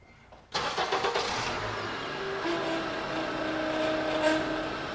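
Engine of a 2006 Honda Element starting up and idling steadily while the steering wheel is turned to full lock, with a rising whine from the power steering pump over the running engine.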